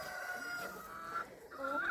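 Roosters clucking in a farmyard in Ukraine on a sunny January day, quiet, short intermittent calls at moderate distance with no voices.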